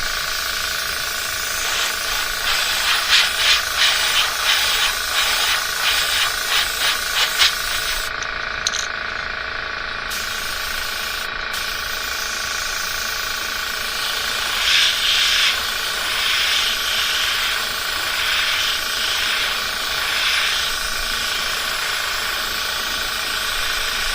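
A paint spray gun hisses in a steady, loud close-up rush while painting a gill plate in a fade, with rhythmic pulsing trigger bursts early on and a few short breaks in the hiss.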